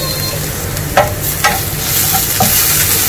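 Coconut pieces and spice powders frying in a pan for a Christmas-style prawn roast, a steady broadband sizzle with a few sharp scrapes and knocks of stirring, close and fairly loud, no talk.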